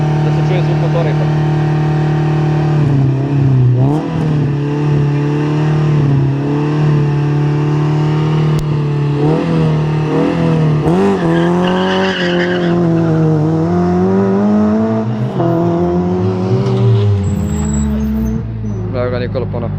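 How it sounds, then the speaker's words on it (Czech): A race car engine at a hill climb race on Avala revs loud and near, its pitch rising and falling through gear changes, with someone talking over it throughout. "da se čuje zvuk motora ipak"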